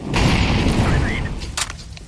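A grenade detonating in a shooter video game, one loud close boom with a booming, rumbling tail fading over about two seconds, followed by a short sharp crack near the end.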